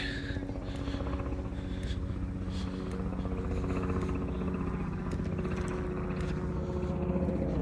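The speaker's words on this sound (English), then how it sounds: "A helicopter right above us." A helicopter passing directly overhead a park, a steady loud droning rotor and engine rumble that holds throughout without a break.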